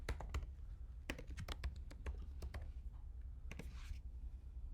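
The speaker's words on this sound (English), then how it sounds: "no one wants to watch or listen to me type" Irregular clicking of typing on a computer keyboard, with bursts of keystrokes and short pauses, fairly close over a low steady hum.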